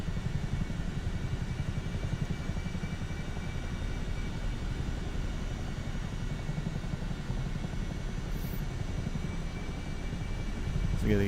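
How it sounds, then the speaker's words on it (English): A Chinook helicopter in the flight game MSFS 2024 flies low over a neighborhood, its steady heavy rotor and engine roar holding loud and unbroken throughout, with no talking. "Kids out here playing in these neighborhoods is having a good day when a Chinook flies over."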